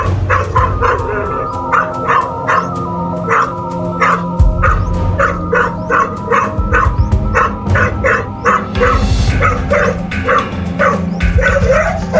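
A dog barks repeatedly and loudly at a live cobra that has slithered in, sharp yips and bow-wows in a fast, steady series, with some whimpering and low rumbling noise underneath.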